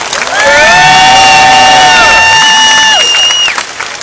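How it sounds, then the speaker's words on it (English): A large crowd at the PNE's Wicked Show cheers, whoops and applauds loudly for sport bike freestylers, the roar rising quickly, holding strong for about three seconds, then fading out. "Let me hear a round of applause for them."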